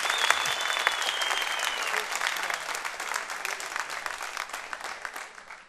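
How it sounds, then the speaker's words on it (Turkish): A studio audience bursts into sustained applause, dense steady clapping from a crowd that carries on for several seconds and then fades slightly at the end. "Büyük bir alkış."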